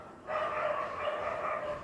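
Dogs fighting outdoors make a continuous run of overlapping barks and yelps for about one and a half seconds, fairly faint and distant, with no one talking.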